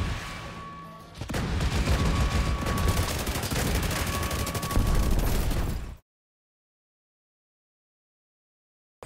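Sustained, dense gunfire from a Destiny raid game fills the first six seconds: loud, continuous overlapping shots and blasts, followed by abrupt silence with a faint blip at the very end.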